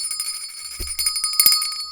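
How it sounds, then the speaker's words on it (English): A bell rung during a live stream, bright ringing tones with a dull thump at the strike and a second ring shortly after, sustained and fairly loud with no talk. "Dirty wants me to ring the bell"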